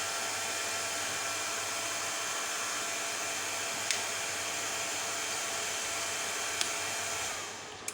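Two cooling fans spin inside a 2000W 48V low-frequency inverter under heavy load during a test, giving a steady, loud broadband whir with a low hum beneath and no speech.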